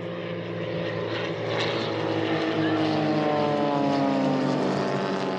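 A modern propeller airplane in flight, flown by a woman pilot, drones steadily and loudly throughout, its engine note swelling slightly as it passes close by.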